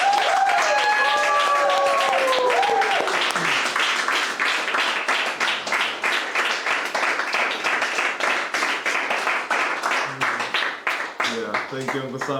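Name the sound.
applause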